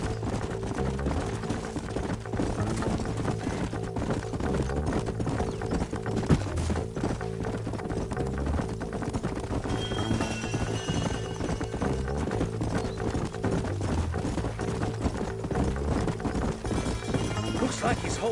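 Horses' hooves clip-clopping in the Western video game Red Dead Redemption, a steady rhythmic trot that runs throughout over a music bed.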